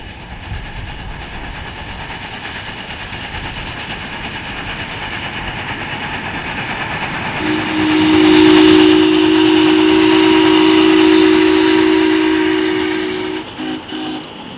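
A miniature steam locomotive runs on rails in New Zealand with a steady rolling rumble, and a sustained whistle sounds loudly through the middle before fading as the train keeps going.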